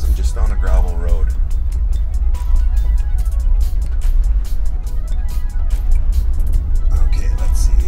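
Low rumbling road noise inside a 2022 Tesla Model Y rolling slowly on a gravel road on Michelin X-Ice winter tires, with crunchy texture and bumps under someone talking throughout.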